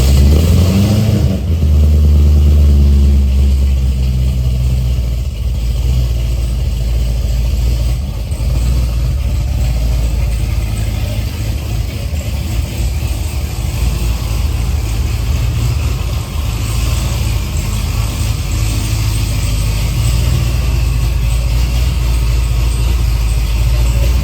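A supercharged Corvette engine making over 700 hp runs in a shop. It is loud and close, with a steady low rumble that stays even throughout and no voices.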